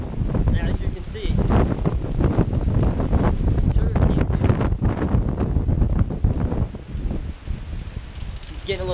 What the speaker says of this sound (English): This wind's blowing so much it's a little chilly